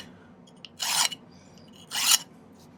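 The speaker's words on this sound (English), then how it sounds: "I can start filing right there and just kind of remove a lot of the material that I want to anyway" Two separate rasping strokes of a metal file on a small silver charm during silversmithing, each about a third of a second, bright and close with a quiet pause between them.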